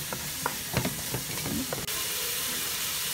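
Chicken seasoned with spices and colorau sautés in a pot, with a few sharp scrapes and clinks of stirring over a hissing sizzle that then settles into a steady, even fry.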